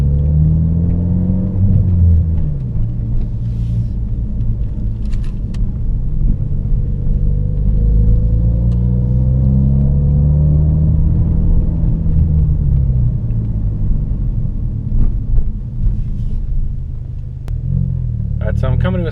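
A Ford Focus RS with its muffler deleted pulls away from a stop in a normal takeoff, giving a loud, close, steady engine rumble that rises and falls in pitch as it moves through the revs.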